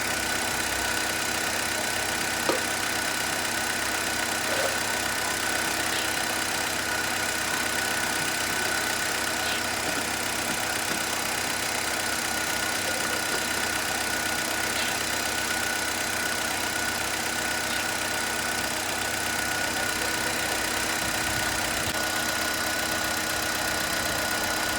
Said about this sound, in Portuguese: Motor funcionando, tudo certo.